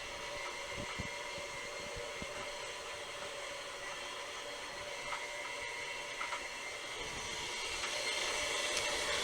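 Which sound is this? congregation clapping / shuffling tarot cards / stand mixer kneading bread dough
stand mixer kneading bread dough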